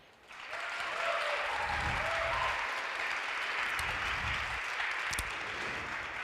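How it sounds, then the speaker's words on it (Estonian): Young scientists applauding older scientists at a student science festival award ceremony: a crowd's clapping rises quickly after a quiet start and holds steady and full until the end. "kõigepealt teevad suure aplausi vanematele teadlastele austusavalduseks kõik noored teadlased"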